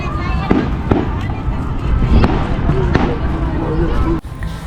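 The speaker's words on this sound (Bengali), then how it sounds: "ওদিকে অনেক সব বাজি ফটকা ফাটছে" Fireworks and firecrackers burst repeatedly at a Fourth of July Independence Day gathering in a large American park by a lake, sharp cracks and booms at irregular intervals over a steady crowd murmur, one loud bang near the end.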